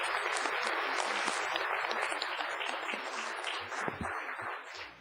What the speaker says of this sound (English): let's just do one more round of applause to all of our awesome students.